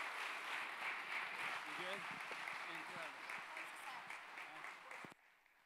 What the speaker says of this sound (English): Hand clap of celebration.